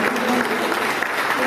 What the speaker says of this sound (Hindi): जब भी अच्छा लगे ना तो तालियां बजाओ